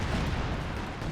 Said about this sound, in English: Artillery fire hitting the whole area.